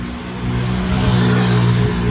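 A motorbike passes close by at an industrial building installation site, its engine a steady, loud drone that swells slightly as it goes past, with no voices.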